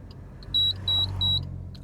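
Blind spot sensor warning buzzer mounted under a car's dashboard, giving three clear, evenly spaced high-pitched beeps over a low engine and road rumble inside the car.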